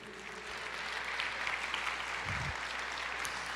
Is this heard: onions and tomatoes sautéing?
no